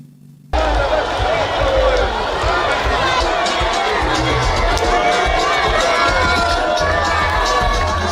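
A large crowd of football fans in Kinshasa roars and cheers steadily as the Leopards national team, just qualified for the 2026 World Cup, arrives; dense, continuous noise with shouting voices throughout after a brief quiet start.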